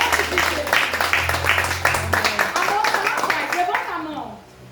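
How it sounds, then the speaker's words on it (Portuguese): A church congregation claps together in a steady, loud run of hand claps, with voices mingled in and a low background tone, before the clapping fades out near the end. "Se você crê, aplauda o nome do Senhor bem forte."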